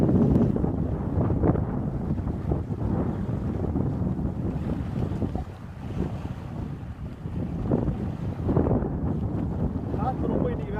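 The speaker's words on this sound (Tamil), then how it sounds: "காற்று ரொம்ப இன்னைக்கு வேகமாக அடிக்கிறதுனால தண்ணி கலங்கி போச்சு." Strong wind buffets the microphone beside a lake, a steady loud rumbling gust that swells and dips, with choppy water lapping underneath throughout.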